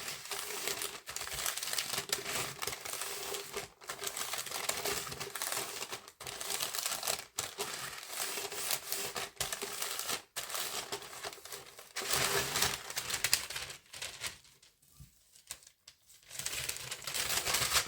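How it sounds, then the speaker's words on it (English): Greaseproof paper crinkles and rustles continuously up close as it is wrapped around a glitter resin coffee tumbler and smoothed down, with dense crackling bursts and brief pauses. "I just need to wrap this around some greaseproof paper and just smooth it out"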